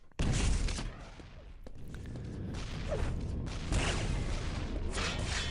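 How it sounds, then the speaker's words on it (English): Rocket fire and explosions in a Quake duel, a burst of sharp blasts at the start followed by continuous busy combat noise with whooshes and thuds. "He's going to come in here with some big rockets though, and Josh picks up the mega mid-fight."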